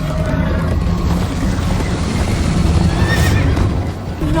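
A horse whinnies loudly and repeatedly over rapid galloping hoofbeats in the Minecraft Story Mode video game, heard up close during a chase, with no voices.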